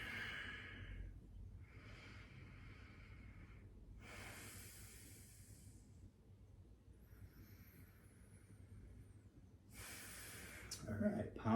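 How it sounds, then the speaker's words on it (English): Slow, deep breathing during a yoga child's pose in a sun salutation sequence, with several long, airy inhales and exhales close to the microphone, separated by quiet pauses. "Breathing deeply."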